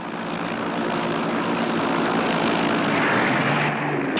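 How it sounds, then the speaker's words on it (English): American military aircraft flying over South Vietnam during the Vietnam War, a loud continuous engine drone that holds steady throughout, close and alone with no talk. "In South Vietnam, American aircraft met less resistance."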